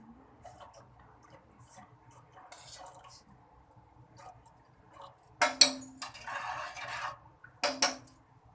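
Spoon scraping and clinking against a pot as food is stirred at home, with a few louder metallic bursts near the end after quieter scattered taps.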